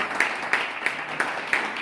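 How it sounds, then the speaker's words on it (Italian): A room of people at an award ceremony for a foundation's safest residence claps steadily, with a dense wash of hand claps and regular rhythmic accents. "Quindi vi fate un bellissimo applauso perché ve lo meritate."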